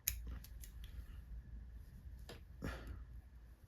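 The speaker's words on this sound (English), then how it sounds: "So I use my scissors." Scissors trimming fly-tying wing fibers for a Trico mayfly spinner at a tying bench: a few quick, crisp snips close by, two sharper cuts standing out near the end, quiet surroundings otherwise.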